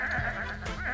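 Sheep bleat in the video game Sheep, a short nasal cry over a steady game soundscape, with a second fainter bleat near the end.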